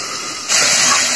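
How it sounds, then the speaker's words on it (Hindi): Fish frying in oil in a pan as a lid goes on, a steady sizzling hiss that swells suddenly louder partway through and keeps up as a bright, even spray of noise. "अभी फ्राई कर रहे हैं, अभी इसको ढक के रखेंगे ताकि जल्दी सीज जाए"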